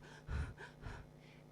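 A voice imitates fast, anxious breathing with a few quick, sharp breaths, the first gasp strongest and the rest shorter, heard close in a quiet room with no words spoken.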